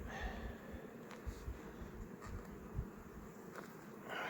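Honeybees swarm around an opened beehive during comb inspection, filling the air with a continuous low buzzing drone, with occasional faint handling knocks, close and steady throughout, with no voice.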